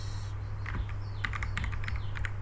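A short, uneven run of computer keyboard clicks is heard as a command is typed, crisp and near over a constant low hum, with no voice.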